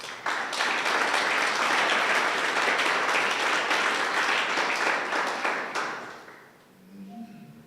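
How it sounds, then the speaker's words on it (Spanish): Congregation applause at a church service, a dense, sustained burst of many hands clapping loudly for several seconds before fading away, with a faint tone lingering at the end. "Dale un aplauso al Señor."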